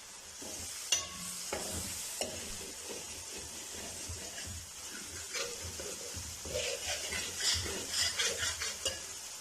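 Ginger garlic paste fries in a pan for a fish masala curry, with steady sizzling and hissing under repeated scraping and clinking of a spoon stirring against the metal.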